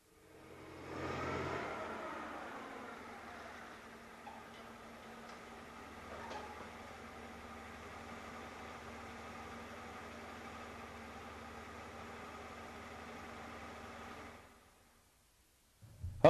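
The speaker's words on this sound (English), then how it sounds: "Never leave a running forklift unattended." A forklift engine left running unattended idles steadily at a moderate level for about fourteen seconds, a low mechanical drone with faint rattles, then cuts off near the end.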